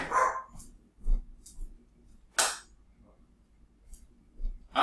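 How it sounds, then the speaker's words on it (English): A dog barking indoors in a few sharp, separated bursts, loud and close, with quiet gaps between them. "if I can get the dog to stop barking, we can keep going here"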